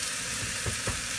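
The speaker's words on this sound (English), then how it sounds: "let's flip these sausages over" Sausages sizzle and crackle steadily in a hot frying pan for a moment, with a couple of brief louder bursts as they are turned over, close and fairly loud with no talking.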